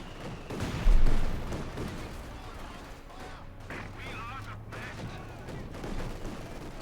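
Machine gun fire in a Company of Heroes 2 match between Wehrmacht and Soviet forces, with a louder burst early on, then steady rattling and booming battle noise lingering in the background.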